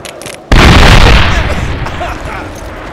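A grenade blast in the Medal of Honor video game, a sudden loud boom that bursts in after a brief quiet moment and then rolls off into a long rumbling decay.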